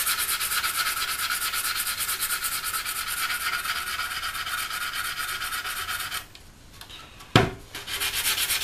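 Close, steady rhythmic sanding strokes rub over dried putty on a seam of a Hasegawa 1/32 scale P-40 plastic model kit, pausing briefly near the end before a short scrape and a resumed stroke.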